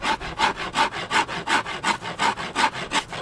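A hand file rasps steadily along a wooden bow limb, close and fairly loud, in about nine even back-and-forth strokes with a brief pause between each.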